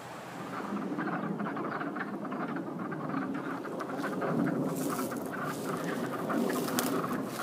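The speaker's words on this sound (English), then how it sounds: "we start hearing all these frogs" Many frogs croak continuously near a creek in early spring, a dense overlapping chorus of rasping calls that holds steady at moderate loudness throughout, with no voices present.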